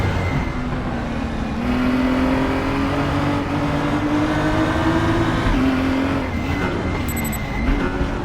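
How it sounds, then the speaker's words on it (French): Race car engine in the RaceRoom racing game on the Nürburgring Nordschleife, a loud, steady high-revving drone with rising and falling pitch through gear changes, plus faint tyre and on-track battle noise, continuous with no speech. "Je vous laisse profiter du son de la voiture et de la bagarre en piste."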